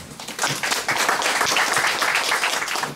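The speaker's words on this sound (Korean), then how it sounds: "오랜만에 박수 한번 해주시죠." Union members and staff applauding in a company office as a branch leader is introduced, a loud burst of many hands clapping close by, building quickly and holding steady.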